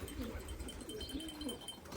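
Faint, low cooing of pigeons in a loft, soft repeated coos over a dull background hum, quiet and somewhat distant.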